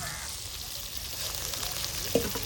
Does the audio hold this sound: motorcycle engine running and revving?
no